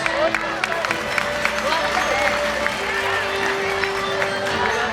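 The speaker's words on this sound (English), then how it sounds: "Parents, give a huge round of applause for all the academic rank holders" Parents applaud the academic rank holders at a school annual day and prize distribution, steady clapping mixed with crowd murmur and a voice over the hall's background.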